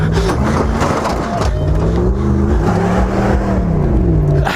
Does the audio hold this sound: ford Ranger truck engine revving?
yes